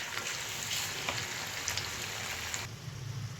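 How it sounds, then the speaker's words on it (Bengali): Chow mein noodles stir-fry on a hot tawa, producing a dense, even hiss and sizzle like light rain that holds steady, then drops slightly near the end; faint and without voices. "এবারে তাওয়াতে পুরো চাউটা দিয়ে দিয়েছি"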